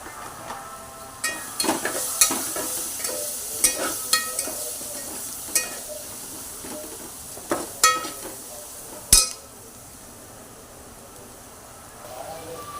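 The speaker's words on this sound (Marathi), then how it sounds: "तर बघा आता आपला कांदा लाल झालाय परतून।" Onion with ginger-garlic paste and turmeric sizzles in a pan as a spoon stirs it, giving repeated scraping strokes for about nine seconds, then the frying settles into a quieter hiss.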